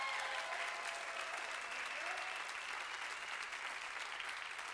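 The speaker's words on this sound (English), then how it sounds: "Clap it up for your judges tonight." A crowd at a live spoken word event applauding steadily, a dense wash of clapping that holds at even volume throughout.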